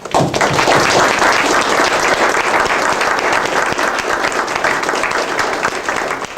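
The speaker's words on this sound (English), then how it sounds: "I think that we've got to give a good round of applause to Jimmy Massey" A lecture audience gives a speaker a loud, sustained round of applause, thick crowd clapping that holds evenly from start to finish without speech.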